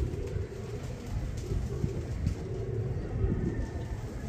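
Pigeons at a breeder's loft coo in low, soft, repeated murmurs that blend into a steady background hum. The cooing is fairly close, with faint scattered noises around it.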